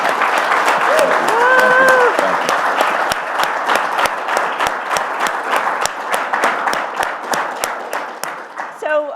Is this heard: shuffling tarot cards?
no